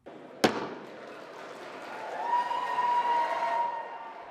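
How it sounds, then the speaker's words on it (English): Epstein abuse survivors in the House gallery cheering and applauding, a sharp bang followed by swelling claps and crowd cheers that rise and then fade. "survivors of Jeffrey Epstein's abuse watching and cheering from the gallery above"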